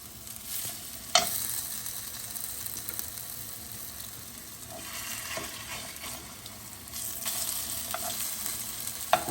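Smoked coley fish cakes with zaatar, vegetables and gram flour fry quietly in a pan with a soft, steady sizzle, a sharp clink near the start and a few light scrapes, with no speech.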